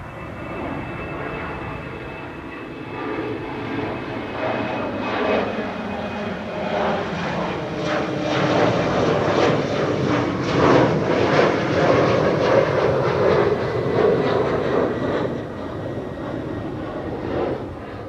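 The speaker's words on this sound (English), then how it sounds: "On the A350-1000 to Hong Kong is also headed for that runway." Airbus A350-1000 jet at Amsterdam Schiphol Airport, a loud, steady engine roar that swells as the aircraft draws nearer and rumbles past, heard from outdoors with no talking.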